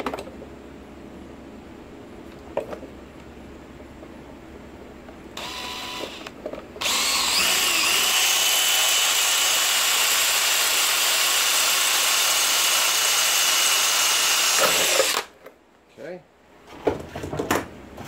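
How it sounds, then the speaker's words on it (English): An electric drill whirs loudly and steadily for several seconds while drilling a hole during an electric trailer A-frame jack switch replacement, preceded by a short burst and followed by clanks and handling noises. "So we'll go ahead and drill the other hole."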